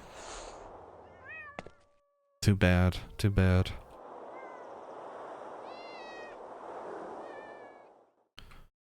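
Cats meow in the video game Thirty Flights of Loving, a few short, clear meows over a soft ambient wash, broken up by loud game thumps and someone speaking briefly.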